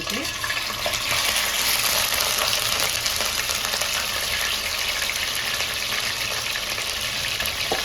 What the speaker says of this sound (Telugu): వేడి నూనెలో చాప ముక్కలు వేసుకోవాలి